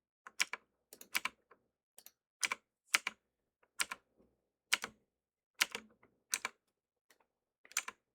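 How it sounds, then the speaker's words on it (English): A computer keyboard clicks steadily as someone types, crisp and fairly close, with bursts of sharp keystrokes in an uneven rhythm separated by short pauses, no voices present. "Is the keyboard clicking too loud also?"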